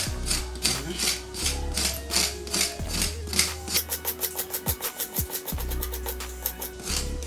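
Skin is scraped off a cassava tuber in steady, rhythmic rasping strokes that quicken into a run of short, regular scrapes, close and fairly loud with no talking.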